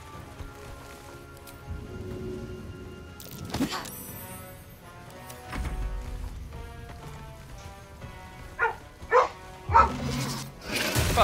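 A dog in the video game Baldur's Gate 3 barks in several sharp, loud bursts near the end, over a backdrop of game music and ambient sound.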